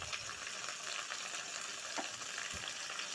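Okra frying in a pan with curry leaves and salt for a vegetarian chorchori, a soft steady sizzle heard close and alone, with a few faint stirring knocks.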